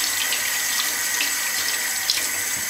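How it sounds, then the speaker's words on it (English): Cold tap water runs steadily over chickpeas being rinsed for hummus, a constant close hiss of flowing water into a sink with no breaks and no talking. "Just going to rinse these beans under some cold water,"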